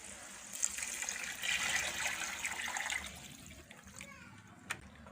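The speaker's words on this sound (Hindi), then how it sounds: "इसमें 4 प्याली पानी डाल लेंगे।" Water poured from a cup into a pot of vegetable pulao rice, a steady splashing gush lasting about three seconds before tapering off, followed by a brief clink.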